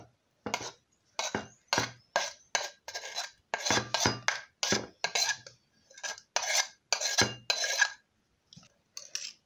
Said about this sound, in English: what I will do is to transfer this to the bowl